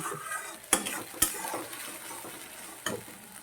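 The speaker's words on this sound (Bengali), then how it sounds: "দিয়ে অল্প ভেজে নিচ্ছি" A paste of ginger, green chilli, garlic, onion and tomato fries in a pan for a small-fish curry, giving a soft steady sizzle with a few sharp scraping stirs, faint and close.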